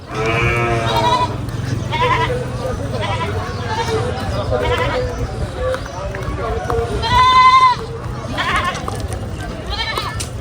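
Two sacrificial goats bleat repeatedly, led along a railway line beside a crowded livestock market, their cries rising over constant crowd chatter and nearby talk.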